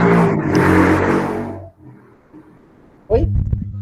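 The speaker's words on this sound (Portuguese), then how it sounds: "Passou a moto aqui, não consegui ouvir." A motorcycle roars past close by, loud and broadband for about a second and a half before fading away, and then a voice starts talking.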